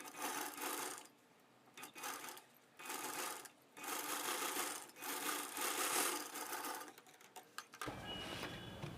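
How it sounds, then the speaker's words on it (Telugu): Sewing machine top-stitching along a lining edge on a blouse piece, running in bursts of rapid, even stitching separated by short pauses, close and fairly quiet. "లైనింగ్ అంచు మీద ముడతలు లేకుండా ఒక కుట్టు వచ్చేటట్టుగా టాప్ స్టిచ్ వేస్తాం"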